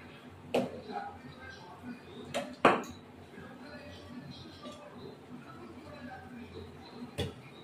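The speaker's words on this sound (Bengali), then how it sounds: "হাতা দিয়ে একটুখানি যা যা সবজি আছে ঢেলে দেবো।" Vegetables are ladled into a pot, with a few sharp metallic clinks of the ladle against the vessel spread over several seconds. The clinks are quiet against faint kitchen background noise.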